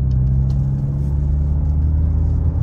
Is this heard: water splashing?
no